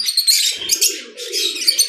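Lovebird and cockatiel chicks in an aviary chirp and tweet in a close, busy stream of high, rapid calls that runs continuously with brief swells.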